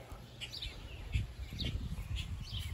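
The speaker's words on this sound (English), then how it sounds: "Some bird trying to be in the vlog." A bird calls in a few faint, repeated chirps outdoors near a school playground, over a steady low rumble of background noise.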